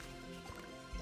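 A brief liquid refill sound in the video game ZOR: Pilgrimage of the Slorfs: soft dripping and gurgling water over a steady game backdrop, ending in a slightly louder splash.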